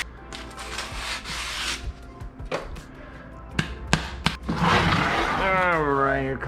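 Sandpaper rubs over thin pallet wood in scratchy strokes, close and uneven, with knocks and handling noises, while a person speaks over part of it.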